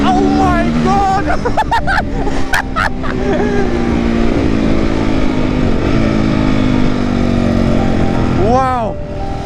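A Honda CRF450R supermoto motorcycle rides past, its engine revving and shifting up and down through rising and falling pitches, loud and close, with people talking and cheering over it.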